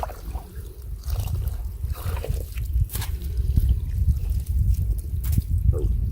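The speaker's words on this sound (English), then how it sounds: "So I can stick this further down at an angle to get more water coming into my dirty bag" Stream water trickles and dribbles steadily into a dirty water bag set at an angle in a dug-out spot while backpacking, with soft sloshing and drips close by and no talk.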